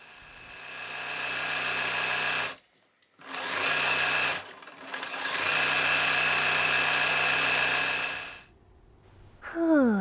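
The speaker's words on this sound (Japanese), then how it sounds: "表ヨークを後ろ身ごろに中表に合わせて縫う。" A home sewing machine stitching a yoke to a back bodice, running in long steady whirring bursts with short pauses between, close and clear, ending with a brief rising mechanical squeal.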